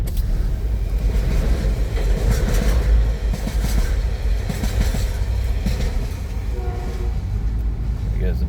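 A freight train rumbles past in Wynyard toward Penguin, heard from a moving vehicle as a steady, loud low roar with rail clatter throughout, plus some talk over it.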